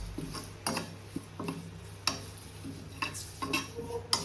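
Fresh curry leaves spluttering and popping in hot oil in a pan, a scattering of sharp irregular crackles and sizzling bursts over a low steady background hum, with no one speaking.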